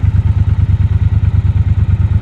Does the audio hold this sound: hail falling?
no